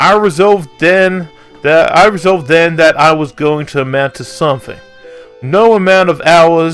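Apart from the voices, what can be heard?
None of the usual background noises is heard.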